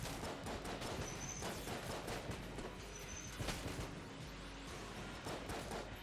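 Rapid, steady gunfire from the twin-stick bullet-hell game Enter the Gungeon, with dense bursts of fast shots and impacts running continuously at moderate loudness.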